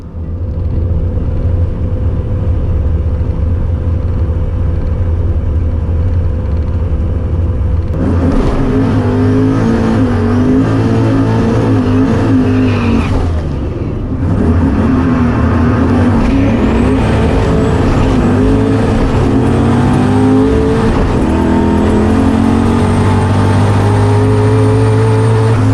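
Turbocharged 363 Fox Body Mustang making a drag strip pass, its engine droning near and loud, then surging hard into a sustained full-throttle roar with rising harmonic pitch, no voices over it.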